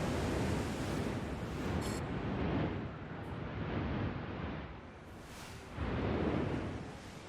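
Spaceship thrusters in a space colony video game, a loud roaring rush of wind-like noise that swells and dips in waves and continues throughout.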